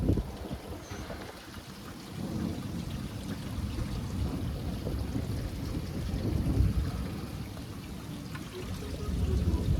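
Steady broadband wash of wind and rain at the tail end of a thunderstorm with high winds, a continuous low rumble swelling slightly around the middle and end, with no clear thunder crack and no voices.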